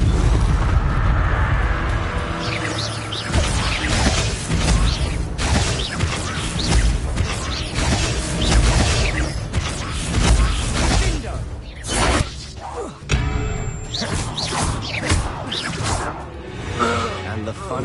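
Bombarda blasting spells from Hogwarts Legacy boom amid a loud, continuous wash of combat effects and whooshes, with voices speaking through the chaotic fight.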